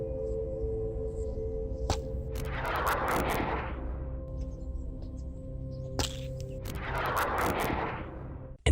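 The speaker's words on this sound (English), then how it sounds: "the world's first working Lego Technic Track Strategic Missile Launcher" A Lego Technic tracked strategic missile launcher fires twice. Each shot starts with sharp clicks, then a rushing, booming burst over a constant low mechanical drone.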